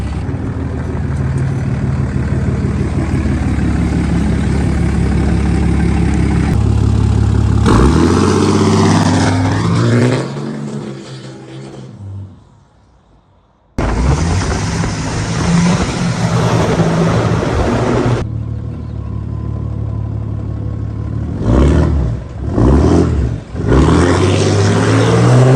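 A Cummins diesel truck idles and then drives off on its first test drive with a rebuilt transmission, its engine droning steadily near and loud, with a brief drop-out before the running resumes.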